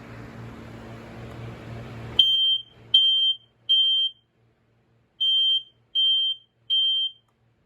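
An ionization smoke alarm (I4618 series) gives loud, piercing electronic beeps, about six in an uneven series, after a stretch of low background noise.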